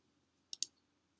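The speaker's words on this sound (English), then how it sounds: "then click on the result" Two quick, sharp mouse clicks a fraction of a second apart, close and crisp in a quiet room, made while recording a UiPath 2.1 macro for UI automation.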